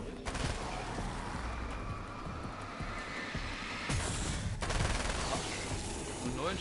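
Gunfire from the video game Alan Wake's American Nightmare, a dense fusillade of rapid shots that runs through the whole stretch with a louder burst near the end, with some voice mixed in.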